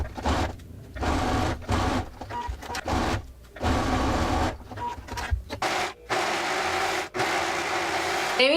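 Domestic sewing machine stitching a blouse's shoulder seam, front and back pieces joined right sides together; steady motor hum and rapid needle chatter in several runs of one to two seconds broken by short pauses, close and alone.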